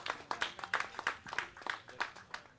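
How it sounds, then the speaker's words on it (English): A small audience at a Heartland Poker Tour event aboard a cruise ship claps for a tournament finisher, distinct individual claps in an uneven, sparse rhythm, fairly quiet and a little distant. "Let's give her a round of applause."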